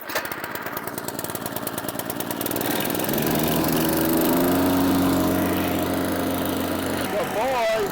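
A small gasoline engine runs on non-ethanol fuel, a lawn-mower-like motor revving up from a lower drone to a steady, loud, close drone, with someone talking over it.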